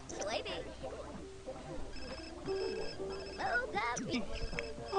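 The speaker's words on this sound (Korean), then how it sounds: "아, 전화 왔어." A telephone rings in The Sims 4 during an in-game wedding, a bright repeated electronic ring heard in short bursts beneath steady talking and laughter from people speaking over it.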